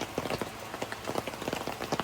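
Rain falling on a soaking wet campsite along an overland trail in Virginia, a steady, fairly faint patter of drops with irregular close taps on surfaces and no talk.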